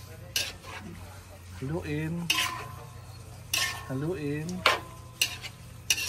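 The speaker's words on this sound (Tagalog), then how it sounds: "Haluin muna natin siya." Meat cooking in a pan is stirred with a metal utensil, giving repeated scraping clanks over a faint sizzle. A voice speaks briefly between the strokes, and the steady hum of a stove runs underneath.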